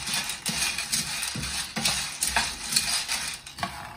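Roughly 200 grams of ground beef browning in a frying pan, stirred with a utensil in a steady rhythm of scraping strokes over a soft sizzle, close and alone without speech.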